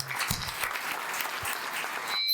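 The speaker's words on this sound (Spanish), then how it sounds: "El aplauso gigante para" An audience applauds for Ana María at a Spanish-language talk on reading trajectories, steady dense clapping filling the room for about two seconds, with a few low thumps near the start and a sudden stop at the end.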